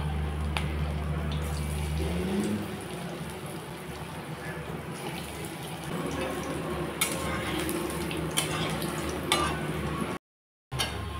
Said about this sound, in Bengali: এই যে আমি কয়েকটা চিংড়ি মাছের বড়া এখন ভেজে নিচ্ছি।